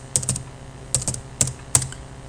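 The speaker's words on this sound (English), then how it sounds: "I have to type in a little bit more" Several separate keystrokes tap on a computer keyboard, crisp close clicks arriving in small uneven bursts with brief pauses between, no voice over them.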